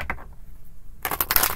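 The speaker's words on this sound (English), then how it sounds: "You're watching me shuffle these cards." Tarot cards are shuffled by hand in a quick riffling burst after a quiet pause, with a few crisp card flicks at the start, close and clear.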